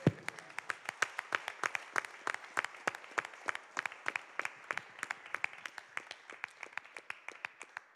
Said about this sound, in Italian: vorrei un applauso